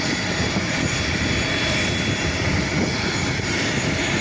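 Wings Air airplane engines droning loudly and steadily near a boarding passenger, a continuous broad roar with a high whine on top and no talk.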